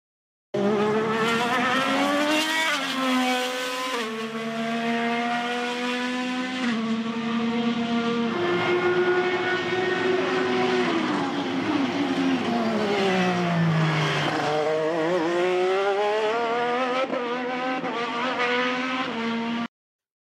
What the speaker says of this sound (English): This will be the 2024 IndyCar with the new hybrid engine.